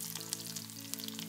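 Mustard seeds, two halved dried chillies and sliced shallots fry in hot oil for coconut chutney, giving a close, steady sizzle with small crackling pops scattered throughout.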